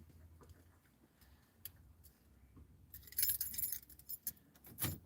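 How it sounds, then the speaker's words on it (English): A car key slides into the ignition, making a soft jingle of keys and small metallic clinks close by. The clinks grow louder and busier toward the end, with no voices. "just put the key in, turn the ignition on"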